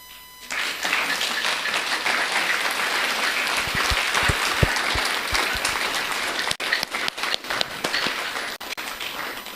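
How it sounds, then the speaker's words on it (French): Applause for standing sub-commission members at a thanksgiving Mass during a youth forum of professed religious in Kolwezi: a crowd bursts into sustained clapping after a quiet start, loud and dense, with some sharper individual claps later. "applaudissements."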